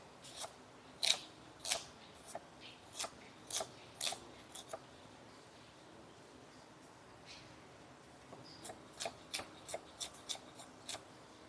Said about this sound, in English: I'm going to cut up my organic baby carrots like so.